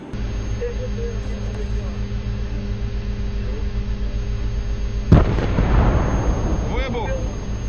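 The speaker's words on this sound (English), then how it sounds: "The missile hits the Russian tank and destroys it." A guided missile fired from a Bradley fighting vehicle strikes a Russian tank, heard as one sudden heavy blast midway through, after a steady engine-like drone, followed by a roaring rumbling tail.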